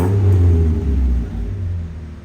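A Toyota AE86 engine on a dyno during tuning gives a loud, close, low rumble that swells in a rev and then eases to a steadier idle-like drone, with no voices.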